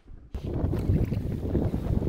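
Strong wind gusting around 20 mph roars and buffets across an open lake with whitecaps, a steady low rumble with choppy surges, loud and continuous.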